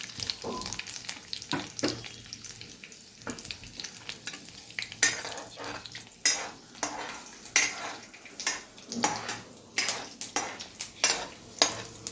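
Garlic pieces and mustard seeds fry in hot oil in a pan, crackling and popping in irregular bursts mixed with the scrape and clink of a spoon stirring against the metal.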